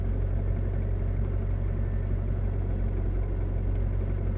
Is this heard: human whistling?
no